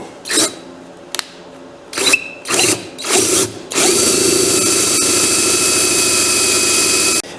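Power drill boring into wood with a 3/8 inch bit on an old toddler rocking chair under restoration: several short revving bursts, then a long sustained loud drilling run.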